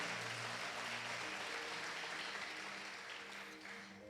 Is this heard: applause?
yes